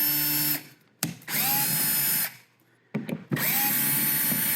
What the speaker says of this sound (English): But to make it quick, I'm gonna use my drill.